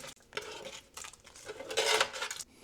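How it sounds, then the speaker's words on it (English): Clinks and scrapes of metal utensils and a pot as roasted vegetables go into a stock pot for beef stock, several short close clatters over about two seconds at modest volume, no talking. "we're gonna come in with those roasted veggies without making a mess"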